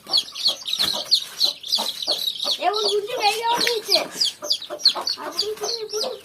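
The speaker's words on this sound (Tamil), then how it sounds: "இது குஞ்சா கோழி. இதில் குஞ்சா கோழி இருக்கும்." Hens cluck steadily in a poultry coop while chicks peep in high, rapid chirps throughout, a close and busy mix of layered calls with no pauses.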